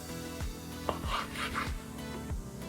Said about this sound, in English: We're gonna go ahead and slice into it, see what we have.